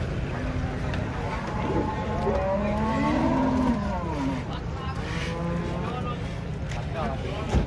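A giant cow moos a few times in drawn-out, wavering calls after being unloaded from a truck at a farm, over a steady outdoor rumble, with people talking nearby.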